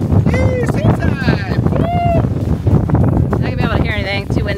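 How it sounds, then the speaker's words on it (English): Strong wind at sea buffets the microphone in a constant low roar, with excited voices shouting and cheering over it. "Not gonna be able to hear anything, too windy."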